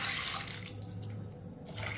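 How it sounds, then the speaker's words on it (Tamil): Water poured into a cooking pot for a weight-loss soup with tomato and salt, a continuous splashing, gurgling stream close by with a brief lull, then pouring again, no voices. "தேவையான அளவுக்கு தண்ணி ஊற்றிக்கிறோம்."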